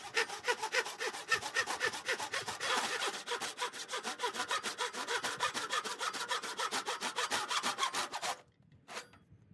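Hand saw cutting through old, very dry oak hardwood for knife handle scales, a steady rapid back-and-forth rasping of close strokes that runs continuously, then stops abruptly with one brief final scrape.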